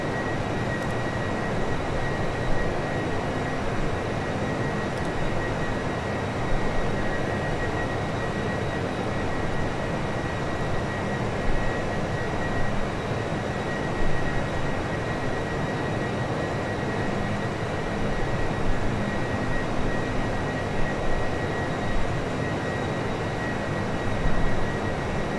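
A UPS Boeing 747-400F in flight in the Prepar3D v5 simulator produces a steady, loud engine drone with a constant whine, unbroken for the whole stretch.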